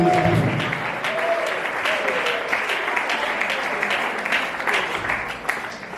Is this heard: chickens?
no